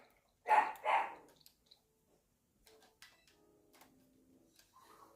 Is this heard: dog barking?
yes